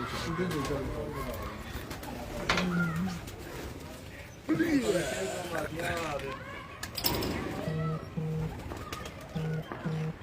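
Racing pigeons in a Lahore loft coo in short repeated low bursts, near and fairly clear, while people talk over them throughout.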